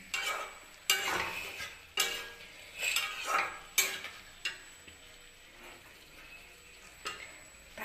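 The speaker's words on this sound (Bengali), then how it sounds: "এক মিনিট একটু কষিয়ে নেব।" Boiled potatoes for aloo dum being sautéed in a pan, with repeated scrapes and stirring strokes over a low sizzle, close and moderately quiet, no talking.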